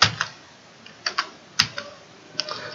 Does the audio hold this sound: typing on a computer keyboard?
yes